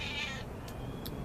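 A house cat meows twice, with a drawn-out first call and then a short second one, faint and close against a steady background hum.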